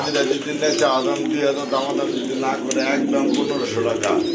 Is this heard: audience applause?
no